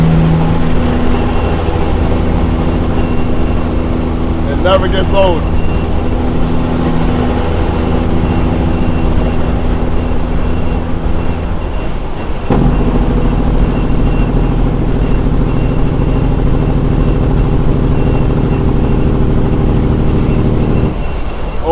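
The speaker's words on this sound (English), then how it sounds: "Sometimes I just like to be quiet and just listen to the truck" A steady, loud engine drone from inside a moving truck, low harmonic rumble throughout, with a brief whine midway and a gear shift near the end; a voice speaks briefly.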